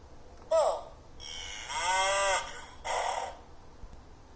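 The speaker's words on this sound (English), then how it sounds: "Around the farm, the bull is strong." A bull's moo plays from a farm animal sound book, a loud drawn-out bellow framed by shorter sharp calls, all close and clear with no talking.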